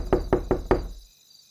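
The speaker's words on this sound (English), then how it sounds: "Let's go knock on Susie's door." Four sharp knocks on a door, evenly spaced and close, in a toddler's Halloween trick-or-treat game, with no talking and a quiet tail afterward.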